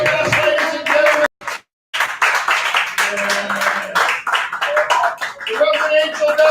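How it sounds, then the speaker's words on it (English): A church audience claps for a preacher in a quick, uneven patter of many hands, briefly cut out near the start, while a voice talks over the applause. "Give him a round of applause."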